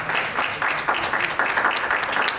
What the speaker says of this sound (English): round of applause for Grown Model Production